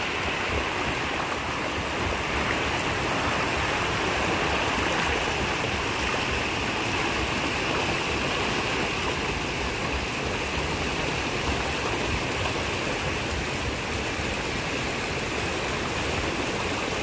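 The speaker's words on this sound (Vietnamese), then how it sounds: "Nước tự nhiên từ đầu nguồn suối xuống này chứ không phải là nước tự làm nữa." Natural mountain stream water rushes down steadily, loud and close, as a dense continuous wash with no speech over it.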